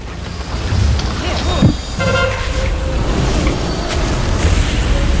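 An explosion during a World of Warcraft dungeon run: loud booming bursts in the middle of dense game effects, with a sharp thump and tonal chimes following, all at constant high volume.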